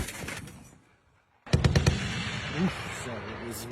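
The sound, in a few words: machine gun firing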